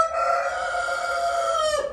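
A rooster of a pure-breed backyard flock crows once, loud and close, in a sustained clear call that tails off abruptly at the end.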